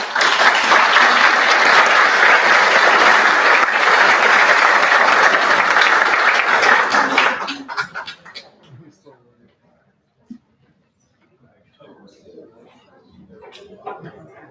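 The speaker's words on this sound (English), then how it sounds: "Let's clap it up." Loud sustained audience applause fills a demo day event hall for about seven seconds, then fades out into near silence with scattered small room noises.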